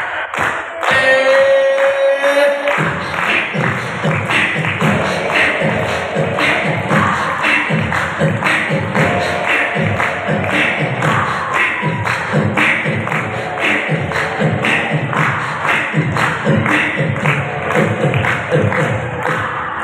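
At a primary school graduation event, a crowd of children claps in a steady rhythm along to loud music, with the beat running throughout.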